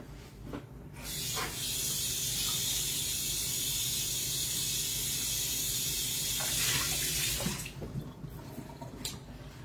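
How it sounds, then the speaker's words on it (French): Very hot tap water pours over a baking mould before a pizza bake, a loud steady hissing rush that runs for about six seconds, then stops. "je vais donc passer mon moule sous l'eau très chaude avant de commencer"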